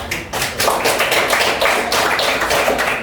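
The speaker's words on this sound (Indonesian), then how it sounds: "mari kita berikan aplaus" A classroom group gets a round of applause: a dense, fairly loud patter of many hands clapping steadily for about three seconds, with no talk over it.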